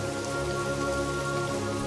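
Heavy rain pours down steadily, a dense, continuous hiss of drops striking surfaces with no pauses or voices.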